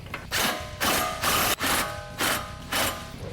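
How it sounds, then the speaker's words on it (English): Ratchet tightening lock nuts on a Pedders adjustable coilover suspension for a 2005-2014 Mustang, five or six rapid clicking strokes in a steady rhythm, close and loud with no voices. "now we'll replace the lock nuts on the back side"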